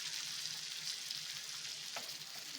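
Masala-coated mackerel (bangda) frying on a tawa gives a steady, close sizzle with a brief crackle partway through, with no voices.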